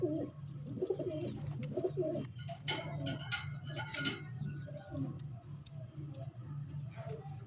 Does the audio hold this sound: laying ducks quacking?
no